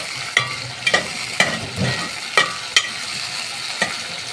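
Lentils sizzle softly in a pan while a spoon scrapes and stirs, with several distinct clinks and scrapes spaced across the moment, as the lentils are sautéed before water is added for Egyptian koshari.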